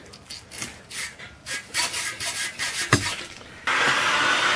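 A small part from a 351 Cleveland V8 engine block is scrubbed with solvent, giving a close run of rhythmic rubbing strokes that ends in a steady, louder hiss.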